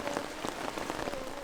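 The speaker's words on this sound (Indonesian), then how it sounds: "hujan pun turun." Steady rain pattering on a surface at a campsite near a spring on Mount Talamau in West Sumatra, a constant close hiss with scattered drop taps and no voices.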